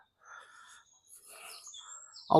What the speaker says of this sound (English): what are kicking off are them birds, mate